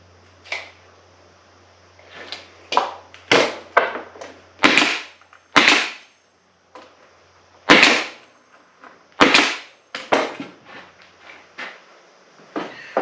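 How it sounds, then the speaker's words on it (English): A staple gun drives staples into wood while a rustic firewood rack is built. About a dozen sharp, loud snapping shots come at irregular intervals, with faint handling noise between them. "This is going to throw staples in there to secure this to the wood."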